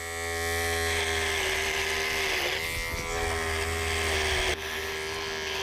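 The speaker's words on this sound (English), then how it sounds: "he finally pulled out his electric shaver" An electric shaver runs steadily, close and loud. Its high, even buzz drones with a brief dip partway through.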